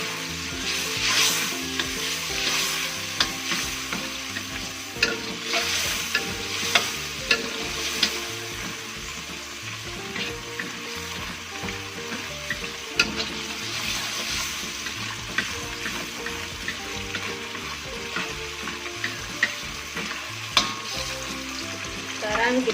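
Coriander and turmeric fry in hot oil for Acehnese-style sautéed shrimp, a loud, steady close sizzle with repeated scraping stirs and occasional spatula knocks throughout.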